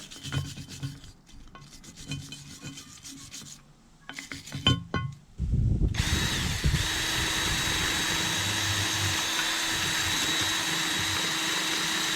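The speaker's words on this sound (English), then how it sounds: "Before putting the bushing in, it's a good idea to clean up the surface with wire brush and brake cleaner." A wire brush scrubs the metal surface of a control arm bushing seat on a Peugeot, opening with scattered rubbing and scraping, then settling into a loud, continuous rasping whir.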